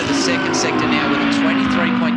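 The Shaw & Partners Audi GT race car howls past at high revs during qualifying at the GT Festival Darwin circuit, a loud, sustained engine note with a commentator talking over it.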